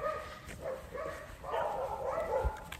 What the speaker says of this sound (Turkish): Köpekler, Allah'tan sokak köpeği yok.